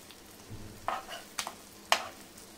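Eggs being flipped on a hot tava griddle for a spicy egg masala: a few soft spatula scrapes and taps over a quiet, low sizzle, with no talking.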